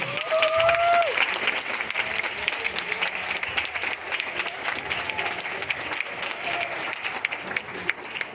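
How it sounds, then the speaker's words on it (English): An audience gives a warm, sustained round of applause for a teacher at a presentation event. The dense clapping fills the whole stretch and stays steady, with a brief whistle near the start. "I'd like to give a massive, the warmest, the loudest round of applause to our great and most legendary teacher, Miss Valentina."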